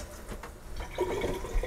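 Water runs from the faucet of a newly installed vessel sink, first sputtering in brief bursts and then settling into a nearby splashing flow.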